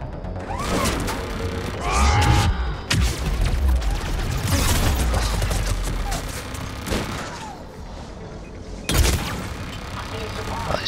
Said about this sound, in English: Fucking grenades, I swear to God.